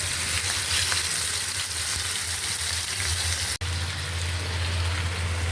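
Chicken pieces frying in oil in a pan on the stove, a steady, close, dense sizzle that runs throughout with a momentary dropout near the end.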